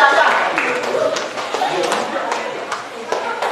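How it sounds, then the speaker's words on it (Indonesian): Students in a classroom during a maths lesson clap for a group, giving a brief burst of scattered applause that fades slightly, mixed with chatter and a voice. "untuk kelompok 1 perwakilan Reja kita beri tepuk tangan"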